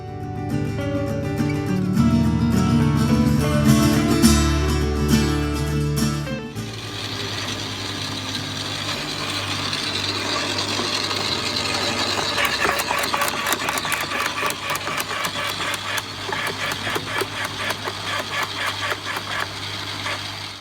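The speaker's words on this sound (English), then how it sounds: "now we're going to turn on the garden shredder" A garden shredder motor starts and chews through wood twigs, giving a loud, steady mechanical grinding with rapid rattling crunches as branches feed in. A brief, different mechanical noise comes first.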